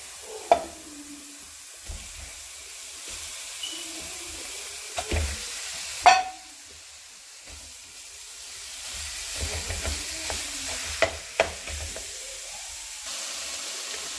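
Minced meat cooking in a pan over medium heat for börek filling, a quiet hiss with occasional sharp utensil knocks and scraping stirs, no talking.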